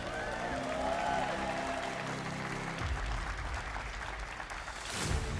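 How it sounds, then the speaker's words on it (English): An arena audience at the HCS Orlando Halo esports championship applauds under music, with a dense wash of clapping and crowd noise that swells again at the end. "Give him a round of applause"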